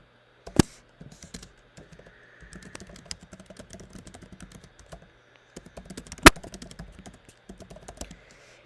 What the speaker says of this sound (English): you need to click Shift and then the button next to it